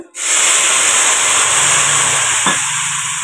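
Milk poured gradually onto roasted vermicelli in a hot pan for rumani dum ka semiya gives a loud, steady steaming hiss that fills the whole clip, with a brief clatter near the end.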